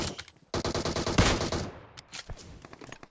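Automatic rifle fire in PUBG Mobile, a fast rattling burst of shots close and loud, followed by a few scattered single shots tapering off.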